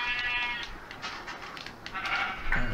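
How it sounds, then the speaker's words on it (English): Several sheep bleat in the Minecraft video game on Xbox 360, with wavering, repeated cries that overlap and sit close and clear against a steady background. "3 sheep right here."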